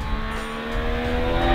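A Triumph Street Triple R motorcycle being ridden, its engine holding a steady, loud droning note that builds slightly toward the end, with no talking.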